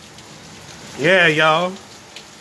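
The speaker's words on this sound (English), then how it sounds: "Now it's raining, okay?" Rain falls in harsh weather as a steady, moderate hiss of drops continuing in the background, while someone speaks briefly over it.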